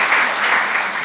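Applause from a church congregation during a Korean sermon, a brief burst of many hands clapping together in a dense, even wash.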